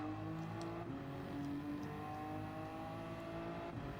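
Race car engines droning steadily around Suzuka in Gran Turismo 7 during an endurance race, a sustained tonal roar with shifting pitch as gears change, loud and continuous.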